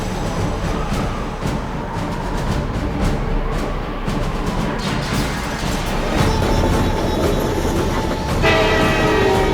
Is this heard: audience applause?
no